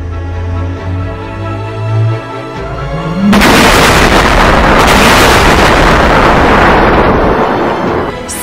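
Neutron stars colliding rendered as a huge explosion effect: a low tonal drone rises briefly, then a sudden massive boom erupts into a loud, sustained roaring rumble that slowly fades.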